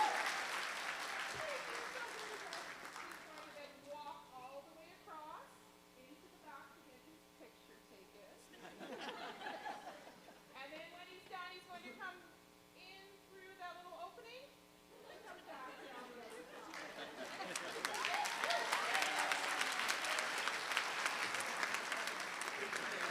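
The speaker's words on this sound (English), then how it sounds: "We're all going to be clapping." A convocation audience claps to greet an award presenter, a broad wash of applause swelling at the start and again louder near the end, with murmured talk and speech-like voices in the quieter middle stretch.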